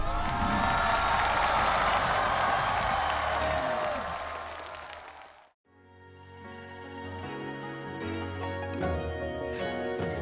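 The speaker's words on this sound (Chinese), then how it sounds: "让我们掌声欢迎盲盒歌手登场" Sustained audience applause on a televised Chinese singing competition stage greets a mystery singer, a dense wash of clapping that fades out after about five seconds before music begins.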